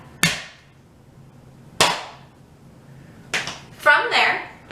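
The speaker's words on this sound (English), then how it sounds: "So I'm actually hitting the ball of my toe and then pointing it off as I go." Tap shoes strike the floor on the ball of the toe during a home tap dance lesson, giving a few sharp, crisp single taps spaced well apart, with a brief voice near the end.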